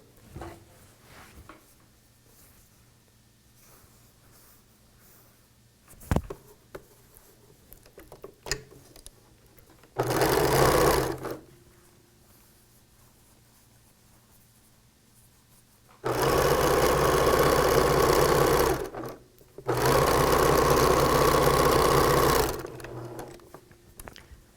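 A sewing machine stitches quilt blocks in three bursts: a short run, then two longer loud runs close together. Quiet handling noises, clicks and fabric shuffling fill the gaps.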